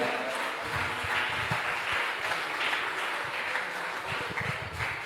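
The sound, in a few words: church congregation clapping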